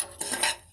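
A spoon stirs poppy seeds, cinnamon and cloves dry-roasting in a pan for a stuffed brinjal masala curry, giving one brief, close scrape and clatter of metal with no voices.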